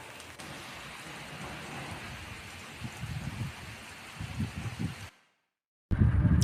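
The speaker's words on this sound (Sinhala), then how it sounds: "බලමුකෝ දවල් වෙනකොටවත් වැස්ස අඩු කරයිද කියලා." Heavy rain pouring steadily outdoors on a day of festival food stalls, a dense even hiss with heavier splattering bursts, briefly cutting to silence before resuming loudly.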